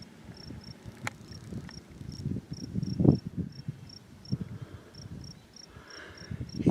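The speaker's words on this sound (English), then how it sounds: "What are these bugs?" Bugs around an off-grid cabin give a regular series of short, high chirps over an outdoor background with scattered thumps and rustling nearby.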